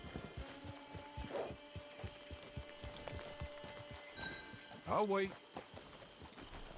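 Rhythmic clip-clop of horse hooves at a steady trot in the video game Red Dead Redemption 2 Online, with a brief spoken line and a short whinny near the end.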